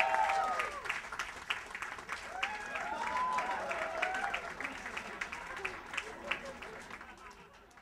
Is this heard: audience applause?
yes